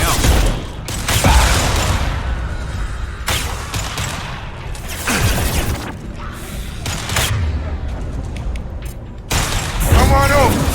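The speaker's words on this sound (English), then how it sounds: "We got rocket launchers." Rocket launchers fire in Mass Effect 2, bringing repeated heavy booms and explosive bursts every few seconds over gunfire and mechanical clatter, with voices talking in between.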